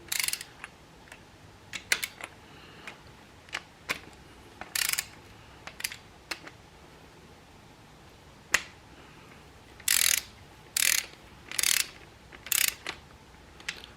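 A torque wrench ratchets on LS1 engine bolts being tightened to 15 foot-pounds, with short bursts of rapid clicking and occasional single sharp clicks. The clicks are heard close up against a quiet background, in several separate runs spread across the clip.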